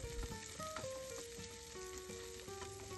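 Garlic, green chilies and sliced onion sauté in a pan with a quiet, even sizzle and faint stirring, set low beneath background music.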